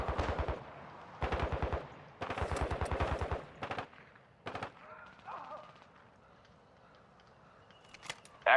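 Loud bursts of rapid automatic gunfire rattle in several close volleys in the video game Call of Duty DMZ, then give way to quieter distant shots and ambient rumble, ending with one sharp report.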